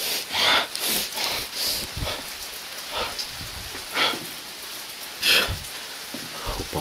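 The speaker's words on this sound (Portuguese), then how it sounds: "Tá relampeando e chovendo bastante aqui" Heavy rain during a thunderstorm: a loud, close downpour that surges and eases in repeated gusty waves, heard alone without talk.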